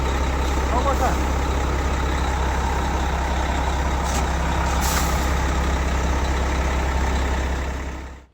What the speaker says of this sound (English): I had him do a couple of hard brake applications there just to see how it was going to hold up.